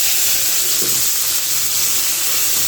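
Vegetables fry in a pan with a loud, steady, close hiss of sizzling oil and steam throughout.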